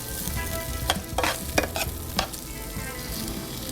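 Scampi sautéing in a pan gives a steady close sizzle, broken by a few sharp crackles and stirring scrapes partway through.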